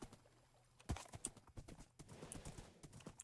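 Horse hooves clip-clop in the game Calliope, a steady run of hoofbeats that starts with a loud, close thud and continues as a busy rhythmic clatter to the end.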